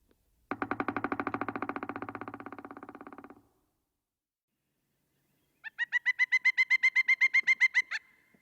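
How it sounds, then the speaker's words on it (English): A pileated woodpecker's rapid drumming roll lasts a few seconds, then after a pause its loud, ringing series of quick repeated calls rings out in a forest. "We hear the sounds of a pileated woodpecker call and drumming in the forest."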